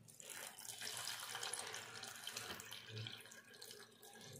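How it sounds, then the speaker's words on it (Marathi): Homegrown chickpea leaves being washed under a running kitchen tap, a quiet continuous splash of water into a sink that stays steady and soft, with no talk. "मी छान धुवून घेते ही भाजी"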